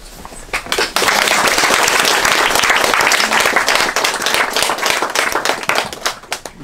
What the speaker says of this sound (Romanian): Dacă aplaudați încă puțin